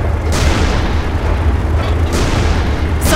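Heavy cannon blasts from a tank in the video game Panzer Knights, a few booming shots spread over a few seconds, each a loud burst over a constant low rumble.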